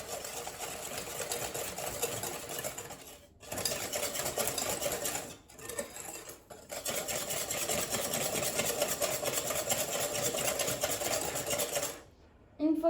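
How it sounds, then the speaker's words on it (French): Sugar being whisked into eggs in a bowl for a pecan brownie batter, a steady continuous whirring buzz with two brief pauses, close and fairly loud, with no talking. "bien fouetter"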